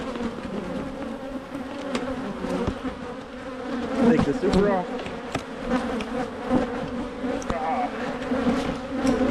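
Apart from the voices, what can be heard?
honey bees buzzing at opened hive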